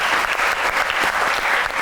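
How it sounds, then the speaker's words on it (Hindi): A talk-show audience bursts into loud, dense applause, a continuous wash of clapping lasting about two seconds with no voices over it. "तालियां।"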